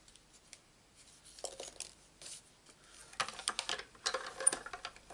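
Scissors snip through paper to cut out a stamped flower image, with a few soft quick snips at first, then a denser run of crisp cutting and paper rustle close by.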